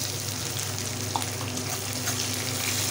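Onions dropped into hot mutton fat, already tempered with cumin, give a steady, even sizzle like rushing water, moderate in level and continuous, with a faint clink partway through.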